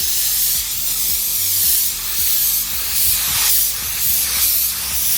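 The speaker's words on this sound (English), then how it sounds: "All right, you get a POV spraying." A spray gun hisses steadily while applying paint to a classic van outdoors, in long close bursts that swell and ease with each pass over the panel, with no talking.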